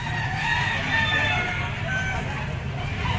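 A chocolate, dark-legged stag rooster crows at a gamefowl market in Grotto, over background hubbub and faint voices.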